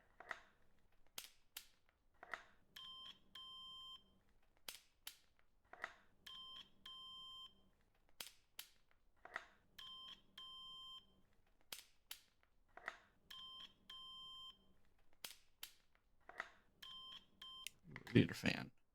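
In the Car Mechanic Simulator game, a multimeter gives repeated short electronic beeps in evenly spaced groups, mixed with sharp clicks, fairly faint, with a brief louder burst at the end.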